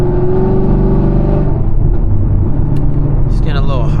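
A 2017 Camaro SS V8 rumbling while being driven, heard from inside the cabin as a deep steady engine drone that eases off midway, with some rustling and a brief high whir near the end.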